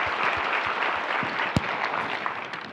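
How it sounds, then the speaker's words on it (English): Audience applause in a hall, a brief round of many hands clapping at a steady level with a few sharper individual claps standing out, then thinning toward the end. "a brief round of applause."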